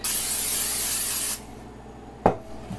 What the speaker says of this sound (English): spray the chicken itself with cooking spray to make the seasoning stick